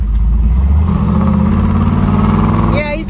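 Loud, close rumble of a 1969 Chevrolet Camaro Z/28 with its original 302 small-block V8 running with a rough, slightly wavering drone, changing pitch briefly near the end.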